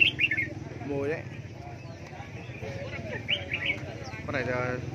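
Songbirds at a bird market, red-whiskered bulbuls among them, give bright chirps and short trilled calls in bursts. The calls sit close over steady crowd murmur and a voice talking throughout.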